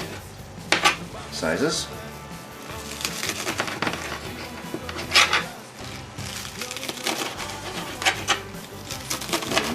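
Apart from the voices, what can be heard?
knife chopping green onions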